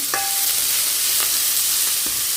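Egg rice with green chili and pepper powder sizzles steadily in a pan while a spoon scrapes and stirs it in a few short strokes.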